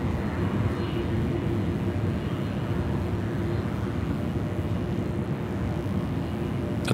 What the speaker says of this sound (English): This is flight 5286 out of Charlotte.